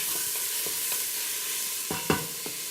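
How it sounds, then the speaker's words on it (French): Chopped onion frying in hot oil while being stirred, a constant close sizzle broken by rhythmic spatula scrapes, with a couple of louder knocks near the end. "Je laisse mon huile risoler. Je rajoute mon oignon."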